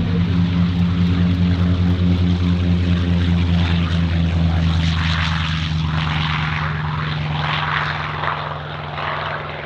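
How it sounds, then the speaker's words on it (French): An F4U Corsair propeller plane drones loudly and steadily at an air show, its engine hum swelling and then fading slightly as it passes. "Elodie, un avion qui nous vient."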